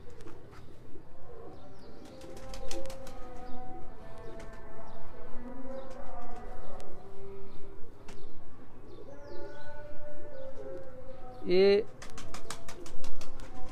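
Sialkoti pigeons, a pure home-bred line, coo in low repeated rolling calls close by, with someone talking over them and brief bird chirps near the end.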